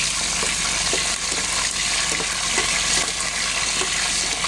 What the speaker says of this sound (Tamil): காஞ்ச மிளகாய் கருவேப்பிலை கடுகு உளுந்து எல்லாம் போட்டு தாளிச்சு